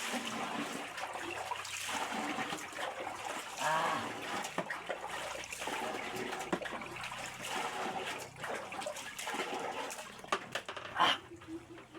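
More water is poured while making a homemade chili sauce, a continuous trickling, splashing flow lasting about twelve seconds with no one speaking.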